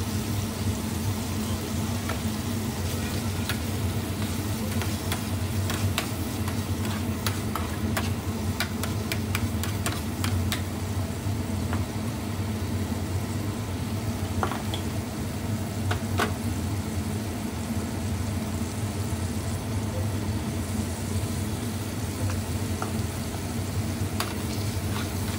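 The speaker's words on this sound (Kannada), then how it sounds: "ಇದನ್ನು ಆಲ್ಮೋಸ್ಟ್ ತುಂಬ ಹೊತ್ತು ಇದನ್ನು ಫ್ರೈ ಮಾಡಬೇಕು" Food frying steadily in a pan, a constant low sizzle and bubbling with scattered faint ticks and scrapes, no voices over it.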